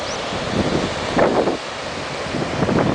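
A small outdoor waterfall gives a steady broadband rush that swells at moments under gusty wind buffeting the microphone, with no talking.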